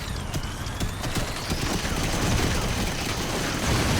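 Minigun fire from a robot in the video game Robocraft, a rapid continuous rattling burst of shots with mechanical clatter, steady and fairly close across the whole stretch.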